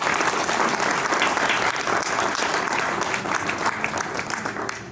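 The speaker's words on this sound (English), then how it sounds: "if we could give them one more big round of applause" A large crowd applauds children at a gathering in Nepal, the clapping loud, dense and sustained throughout before easing slightly at the end.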